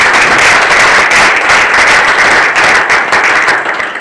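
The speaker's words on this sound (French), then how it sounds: "d'autres applaudissements pour vous" A room full of people applauding, dense and continuous clapping at a strong, even level for several seconds, thinning slightly toward the end, with no one speaking.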